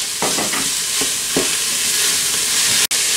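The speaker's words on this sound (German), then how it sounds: "Und jetzt packe ich die Möhren mit rein. Die dürfen ein bisschen auch mit anbraten." Carrots sautéing in an Instant Pot, a steady close sizzle of frying with several short stirring scrapes and clinks, and a sharp click near the end.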